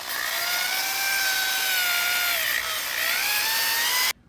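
Wire wheel on a power tool scrubbing rust off a 6th gen Camaro SS brake hub, a loud, steady, close-up whine with slowly shifting pitch that runs continuously for about four seconds and cuts off abruptly.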